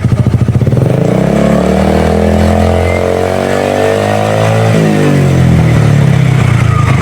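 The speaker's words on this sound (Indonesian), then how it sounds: "Langsung aja kita cek knalpot WRC-nya dipakai di si Icon" A Honda Icon scooter with a WRC aftermarket exhaust revs loudly up close, climbing to a sustained higher pitch and then dropping back to a pulsing idle, with no talking.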